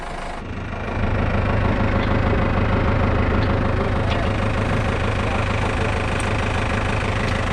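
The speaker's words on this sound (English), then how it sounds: "we're gonna go ahead and connect the tractor, the sprayer" A tractor engine runs with an orchard sprayer attached, a steady loud diesel drone with a hissing fan or spray noise that rises after the first second and holds evenly, close to the listener, with faint voices underneath.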